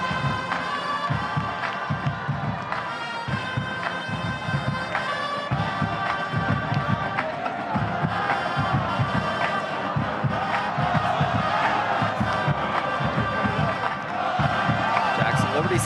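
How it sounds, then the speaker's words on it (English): A packed crowd at a high school homecoming football game between Jackson Memorial and Jackson Liberty on a mild 61-degree evening makes a steady, dense roar with scattered shouts and cheers throughout, fairly loud and continuous. "61 degrees out, and the crowd is here."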